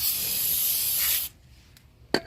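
Brake cleaner sprayed onto new brake rotors for a 2013 BMW 328i, a close, loud continuous aerosol hiss for over a second that cuts off, followed by a brief quieter spurt.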